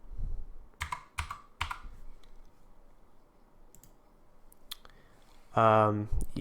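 A computer keyboard is tapped while a password is entered, with a few sparse clicks and faint background murmur, followed near the end by a brief louder harmonic sound.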